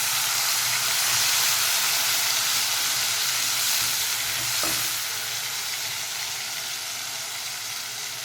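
Tomato puree stirred into sizzling ginger paste in a pan for Rajasthani besan gatte ki sabzi, a steady broadband frying hiss with stirring scrapes, loud and close, easing slightly toward the end.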